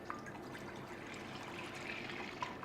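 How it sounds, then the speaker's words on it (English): Milk is poured into a saucepan for homemade yoghurt, a quiet, steady trickling stream at close range. "So we'll take our milk and pour it into a saucepan."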